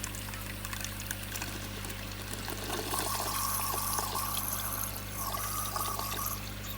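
Water from a garden hose pouring fast into a koi pond to top it up after a clean, a continuous splashing trickle over a steady low pump hum.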